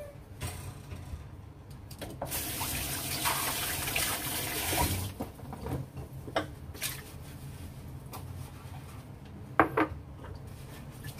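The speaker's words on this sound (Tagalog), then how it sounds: "maghugas lang ako" Dishes being washed in a home kitchen under a running tap, with a steady rush of water in the middle and scattered clinks of plates and cutlery before and after, close and moderately loud; no talking.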